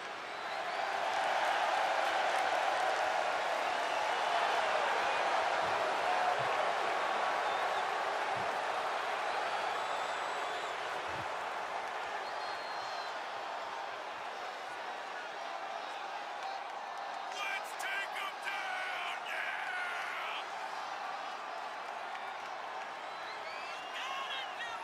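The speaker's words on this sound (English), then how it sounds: "And just listen to that crowd." A big arena crowd in WWE 2K24 cheers and roars continuously during an entrance, a loud sustained wash of noise with scattered whoops and clapping that eases slightly later.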